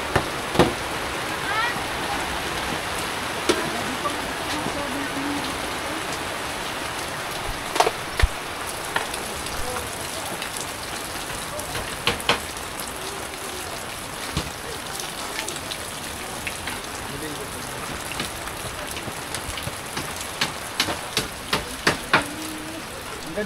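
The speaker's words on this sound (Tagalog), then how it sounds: "Panay ulan." Steady heavy rain from a typhoon pours down on a farm with a constant hiss and scattered drips and taps, while voices talk faintly now and then.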